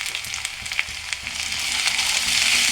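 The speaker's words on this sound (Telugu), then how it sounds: "ఇప్పుడు ఈ పచ్చిమిర్చి పేస్ట్ కూడా ఆయిల్లో మంచిగా మనకి ఫ్రై అయితే కూర అనేది బాగా టేస్ట్ వస్తుంది" Green chili paste and turmeric fry in oil for a cluster bean (gokara kaya) curry, a crackling sizzle that swells louder over a few seconds, with light stirring taps and no voices.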